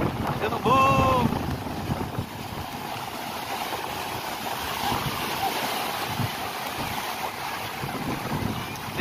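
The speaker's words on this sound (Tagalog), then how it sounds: "Gumanon yung hangin, no?" Strong wind buffets the microphone on a beach, a continuous roaring rush with surf underneath, and a brief voice cuts through near the start.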